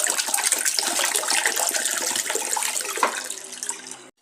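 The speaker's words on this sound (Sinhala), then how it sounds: "තැඹිලි වතුර ටික එකතු කරගන්නවා." Tender coconut water pours steadily into a container, a close, continuous gushing splash that holds for several seconds before tapering off and stopping.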